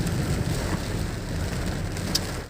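Steady rain pours down at a Thai temple, a dense, even hiss of falling water hitting surfaces, close and continuous with no voices.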